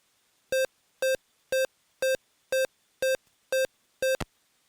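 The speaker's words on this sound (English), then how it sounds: "that sound is being generated by a Chromasound emulator built into Chromasound Studio." A Chromasound emulator inside Chromasound Studio plays back a song as eight evenly spaced, identical buzzy synth beeps in a steady rhythm, loud and dry with silence between, ending in a short click.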